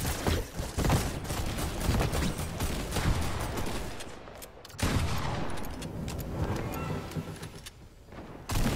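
Dense Fortnite gunfire with shotgun blasts, a rapid barrage of sharp close shots running almost continuously, with a brief lull near the middle before more firing.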